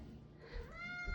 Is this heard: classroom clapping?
no